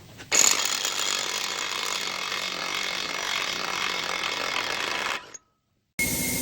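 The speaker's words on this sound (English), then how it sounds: "using a 36mm socket, we'll take that axle nut socket off to relieve pressure on that axle" Ratchet wrench with a 36mm socket spinning off the axle nut on a 2025 Ford Bronco during a lift kit install: a loud, continuous rapid clicking for about five seconds, then a brief stop before the clicking resumes, with no talking.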